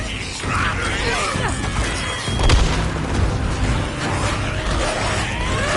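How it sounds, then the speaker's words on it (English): Proximity bombs go off in the Days Gone video game, a rumbling blast peaking midway amid a constant dense wash of game noise, with a voice speaking over it. "let's get ready with some proximity bombs"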